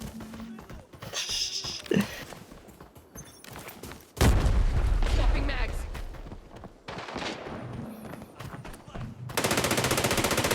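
Gunfire in the video game Arena Breakout, with bursts of shots and a loud sustained stretch of firing in the middle, plus a dense rapid burst near the end, with mixed game sounds in between.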